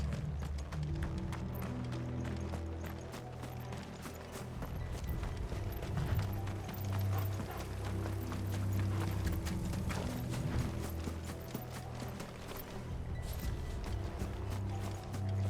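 Hooves pound in a fast, continuous clatter as horses gallop in Final Fantasy XVI, steady and fairly loud, with a rumbling low background.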